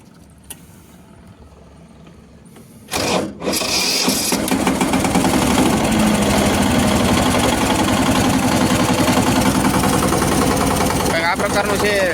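A New Holland Simba 20 Blue Series 18 HP tractor engine cranks with a short burst, then settles into a loud, steady, close-up idle that runs to the end.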